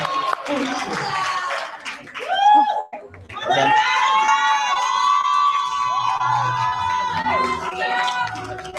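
Workshop audience in Tembisa cheering and shouting for the winner, a loud, sustained crowd roar with excited voices, briefly dipping before swelling again and holding steady to the end.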